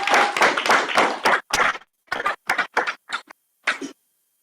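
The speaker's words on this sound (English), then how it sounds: "So everyone give him a good round of applause" A small audience at a real estate market update applauds briefly, a burst of close clapping that thins into scattered, separate claps and trails off into silence.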